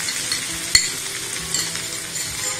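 Green chilies fry in a pan for a chili sabji with a steady bright sizzle. A single sharp clink of a utensil sounds early on and a few lighter taps follow, close up with no talking.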